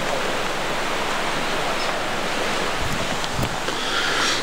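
Sea waves wash onto a beach on Koh Kood, Thailand, a steady broadband rush of surf that holds even across the whole stretch, with wind buffeting the microphone and a couple of brief thumps near the end.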